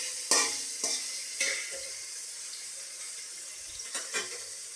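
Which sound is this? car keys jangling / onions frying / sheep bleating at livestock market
onions frying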